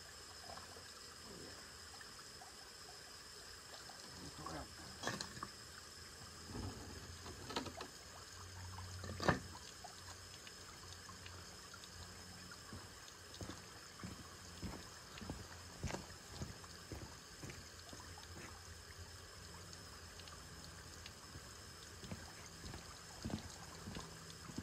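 Water flushing through the boiler of a 4-inch scale model steam traction engine during a washout and descale, a steady, faint rushing and trickling wash with scattered small knocks and clicks over roughly twenty-five seconds, no voices.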